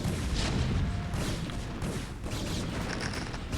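Siege tanks in StarCraft Remastered fire on guns in a dense barrage of heavy booms and blasts, loud and close, with explosions overlapping one after another for the whole stretch.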